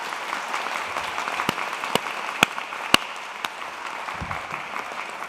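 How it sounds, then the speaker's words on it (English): A graduation ceremony crowd at the University of Greenwich applauds the graduates, a sustained, moderately distant rain-like clapping from a large hall with a few sharper individual claps standing out. "give them a big round of applause"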